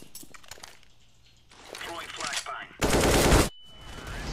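Gunfire in Counter-Strike: a dense, loud burst of rapid shots about a second long, with scattered game effects and people talking around it.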